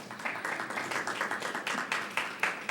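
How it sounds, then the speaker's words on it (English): A modest audience applauds at a community read event: light, uneven clapping from a small crowd, fairly soft, with individual claps standing out in a loose rhythm. "we want to give him a nice round of applause"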